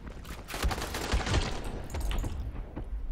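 Gunfire in the first-person zombie game Dying Light, a dense run of rapid muffled shots and impacts layered over game noise, moderately loud and continuous.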